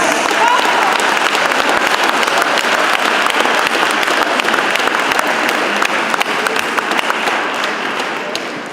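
An audience at a lecture in Newark breaks into loud, continuous applause, a thick, even roar of many hands clapping that tapers slightly toward the end.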